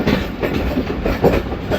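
The Pakistan Express pulling into Dina railway station, a close, loud rumble of rolling wagons with rhythmic clickety-clack from the wheels and no talking over it.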